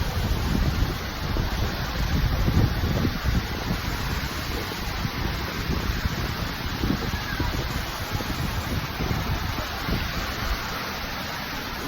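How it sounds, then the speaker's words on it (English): A waterfall on a Lost Canyon cave nature trail in Branson, Missouri, pours in a steady, full, broadband rush that stays close and even throughout, with some wind buffeting the microphone. "Look at that waterfall."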